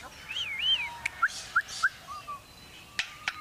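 A lyrebird, the mimic known for copying construction noises, gives a few whistled, warbling calls followed by short, sharp chirps and clicks, fairly close and clear over a quiet background.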